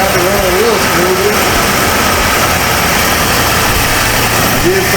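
The engine of a 1978 Ford Mustang II runs steadily in a loud, unbroken rumble, heard close throughout with a faint whine rising briefly near the start and end.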